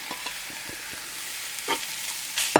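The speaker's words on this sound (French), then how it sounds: "Et je vais juste mélanger comme ceci et la viande elle va s'imprégner de l'herbe fraîche, le basilic." Meat with fresh basil stirred in a pan just taken off the heat, giving a soft ongoing sizzle with several light scraping and clinking strokes, the last one louder, and no speech.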